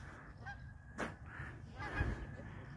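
Geese honking on a lake, a few faint separate honks at the start, middle and end over a quiet outdoor background.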